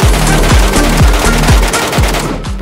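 Automatic gunfire in the extraction shooter Metro escape, a rapid burst of repeated shots about every quarter second, loud and close, with no voices.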